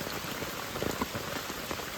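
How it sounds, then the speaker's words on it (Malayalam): Steady rain falling on surfaces nearby, a dense even patter of drops with a few louder splashes, no voices. "കാരണം മഴ ചതിച്ചു"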